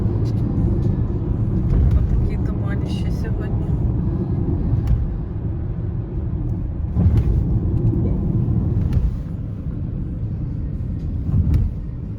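A car pulls out of a parking lot into fog, its engine and tyres making a steady low rumble from inside the cabin, with people talking over it.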